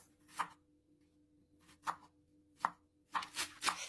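Knife chopping Thai eggplants on a cutting board, a handful of sharp, separate chops with pauses between them, ending in a quicker cluster of cuts, heard up close with no talking.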